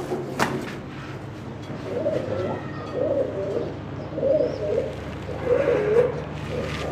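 Iranian toggi fancy pigeons cooing in a loft, soft repeated low coos in short phrases, fairly close, over a steady low background hum.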